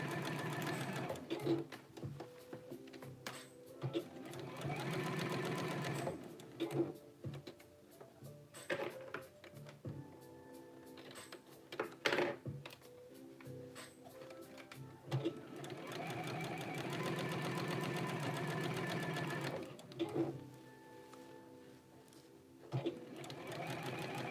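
A sewing machine stitches a neck band onto a garment, its rapid mechanical rattle running in bursts with short pauses, fairly loud and close throughout.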